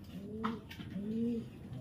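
Soft, low pigeon cooing in two rounded phrases, close by, with faint background noise and no talking.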